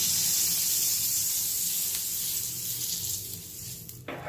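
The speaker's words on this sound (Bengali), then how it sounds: "এবার আমি এগুলোকে ভেজে নেব।" A naan fries on a butter-brushed tawa, giving a loud close sizzle and hiss that fades slightly near the end, with a brief knock at the finish and no speech.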